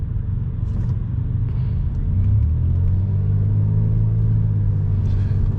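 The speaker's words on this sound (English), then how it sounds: "You can see all the traffic just going to almost a crawl." Heavy expressway traffic slows almost to a crawl, heard from inside a car as a steady low rumble of engines and road noise, with a slight rise as the car creeps ahead.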